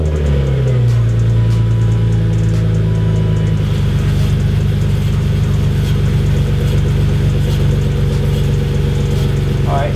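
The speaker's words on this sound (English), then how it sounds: "I'm gonna start the car and I'm just gonna verify that the wheels turn freely." BMW E36 engine starting and then idling in gear, a loud steady low rumble that settles after a few seconds and holds evenly throughout.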